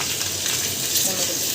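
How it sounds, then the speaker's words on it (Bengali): Chili chicken stirred and frying in a pan gives a steady, close, bright sizzle with soft scraping underneath, continuous and without pauses. "এই 1-2 মিনিট নাড়াচাড়া করব।"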